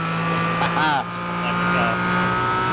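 A Porsche GT4 race car in a racing video game drones steadily with a continuous engine note that rises and falls in pitch, while voices talk over it throughout.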